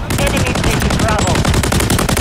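Rapid automatic gunfire in the video game Modern Warfare 3, a loud, dense burst of shots rattling continuously at close range with no pause.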